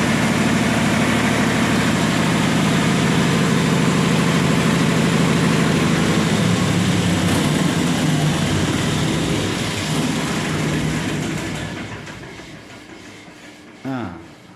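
A diesel generator set at a TV transmission station drones loudly and steadily, then is switched off and winds down into near silence, with a brief knock at the end.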